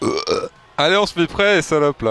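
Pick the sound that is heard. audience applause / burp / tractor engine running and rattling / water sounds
burp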